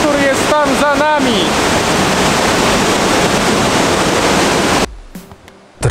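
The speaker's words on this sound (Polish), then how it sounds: "Dotarliśmy do wodospadu Kozjak, który jest tam za nami." Kozjak waterfall in Slovenia plunging into a rock pool, heard up close as a loud, steady broadband roar that fills the scene for about five seconds before cutting off abruptly, with a voice talking briefly over it at the start.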